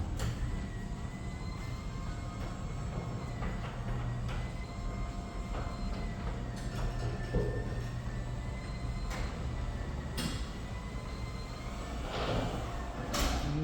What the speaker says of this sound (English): Now let's test out how quiet or loud the garage door is.